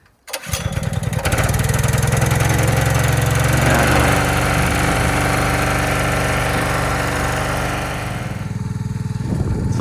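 The small engine of a hydraulic log splitter starts up abruptly and then runs at a steady, loud, droning idle close by, easing slightly in pitch and volume toward the end.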